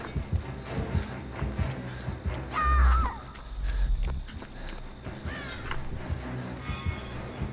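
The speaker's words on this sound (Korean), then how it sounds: "까마귀 네마리만 더" Crows caw in a video game, scattered harsh calls over busy game sounds, thuds and footsteps, with one louder caw near the middle.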